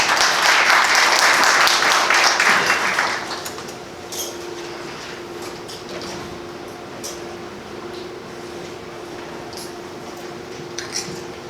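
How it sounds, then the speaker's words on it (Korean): A union meeting audience claps loudly for the first few seconds, then the applause fades out, leaving a quiet room with a low hum and scattered small clinks and rustles. "다시 한번 큰 박수 부탁드립니다"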